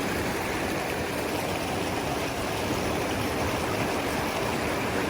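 Creek water rushes steadily at a gold-prospecting spot, a constant broad hiss and gurgle of flowing current with no voices, even and unbroken throughout.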